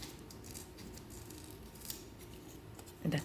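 Scissors make a few quiet, close snips while cutting a paper talisman, the blades closing softly over a faint hiss with a slightly louder rustle at the end.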